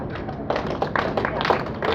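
Audience applause at a stand-up comedy night, a smattering of close claps building into a steadier round that runs for a couple of seconds.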